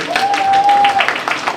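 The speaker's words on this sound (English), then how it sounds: "Yes, applaud that man!" A convention audience at an anime history talk gives a short burst of clapping mixed with voices and a faint steady tone.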